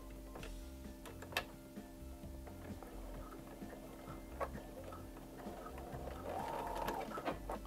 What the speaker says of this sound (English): Now sew a few stitches.